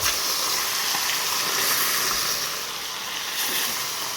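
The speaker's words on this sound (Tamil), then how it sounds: "இப்போ இந்த மீனை போட போகிறோம்" Fish fries in hot oil, giving a dense, continuous sizzle and hiss that stays loud and close throughout, with no talk.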